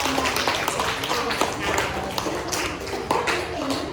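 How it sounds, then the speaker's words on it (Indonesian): Students in a classroom clap in a scattered, uneven patter for about four seconds, with voices chattering over and under the clapping. "Tepuk tangan buat Vina dan Vina"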